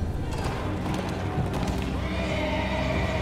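Horse in the Telltale Walking Dead game giving a loud, close, distressed neigh over hooves and dramatic game audio.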